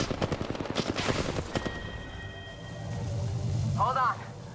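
Rapid automatic gunfire in the Apex Legends video game rattles off in quick bursts, close and punchy, then gives way to quieter game effects with a voice talking over it.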